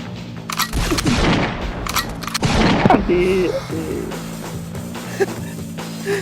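Gunfire from the Elsu hero in the mobile game ROV: a few sharp, loud shots in the first few seconds, followed by quieter game effects, with a voice talking in between.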